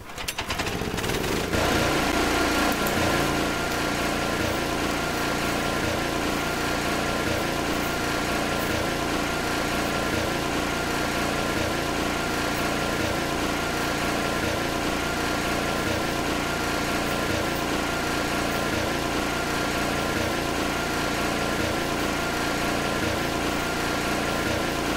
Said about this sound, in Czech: Ta sekačka je hrozně pomalá.